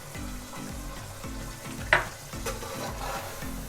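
White chicken korma with cream and mango paste being stirred and fried in a pan, a steady sizzle with repeated scraping stir strokes and one sharp clink of the spoon against the metal partway through.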